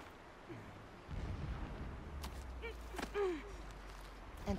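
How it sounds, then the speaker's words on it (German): A distant explosion rumbles low in the Horizon Zero Dawn game world, a muffled boom rising about a second in and sustained as a deep roar, with softer bursts, game effects and faint ambient sounds layered over it. "Entfernte Explosion."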